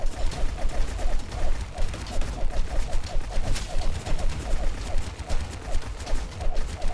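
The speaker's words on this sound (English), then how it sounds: "Those missiles are homing very well." Homing missiles firing in the video game God of Weapons produce a dense, continuous barrage of rapid popping shots in a steady rhythm, loud and close throughout.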